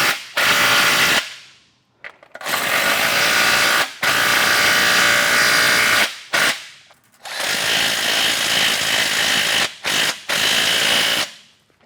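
Power ratchet driving 5/8 bolts on a street sweeper's curb broom, repeated loud, harsh rattling bursts of a few seconds each, separated by brief pauses.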